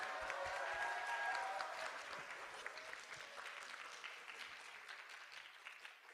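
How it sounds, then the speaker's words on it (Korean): Audience applause fills a hall at a university rehabilitation and independence department's academic festival, a dense steady clapping from many hands that fades gradually. "큰 박수 부탁드립니다"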